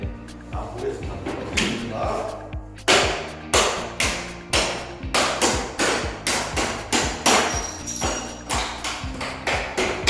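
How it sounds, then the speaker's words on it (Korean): Hammer blows striking a window sash frame during demolition in an apartment, a steady series of loud, sharp, close impacts about every half second. "이거 제가 이거 망치로 한번 내려볼게요"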